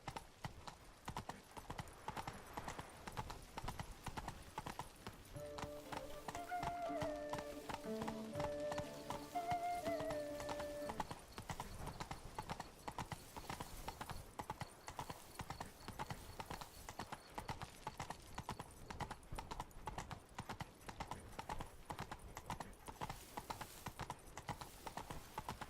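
Horse hooves in The Witcher 3: Blood and Wine clop in a fast, steady galloping rhythm throughout, with a horse's whinny rising briefly in the middle over the constant beat.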